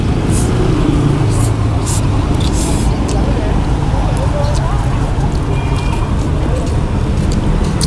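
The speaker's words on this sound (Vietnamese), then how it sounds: "Xe cộ nó nhiều, nó chạy tiếng ồn á" Heavy street traffic passes a roadside noodle stall in District 8, a constant, dense roar of engines with occasional louder hissing vehicles, while voices talk over it.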